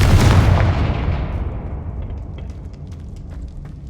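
A Confringo fire-blast spell explodes in Hogwarts Legacy with a single loud, booming detonation that hits hard at once and then decays into a long, rumbling tail with faint crackling debris, and no talk over it.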